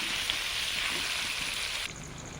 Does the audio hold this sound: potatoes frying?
yes